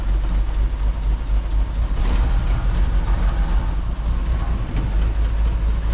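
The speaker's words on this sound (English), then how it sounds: "Well, she started, and I don't really hear any squealing." A Jeep CJ7 engine idles after starting, a loud, steady low rumble close by with no squeal, holding an even drone the whole time.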